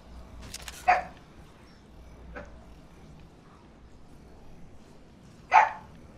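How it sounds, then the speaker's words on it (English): A dog barks in two sharp, separate outbursts, about five seconds apart, with a fainter yip between them, heard against a quiet background during a video game session. "Shut up, dog."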